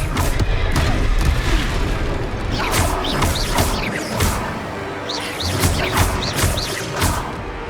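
Spell effects from Hogwarts Legacy, with the Expelliarmus disarming charm among them: loud, dense booms and crashing impacts with whooshing bursts, repeating through a continuous, busy game-combat soundscape.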